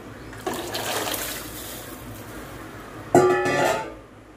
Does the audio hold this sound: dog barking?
no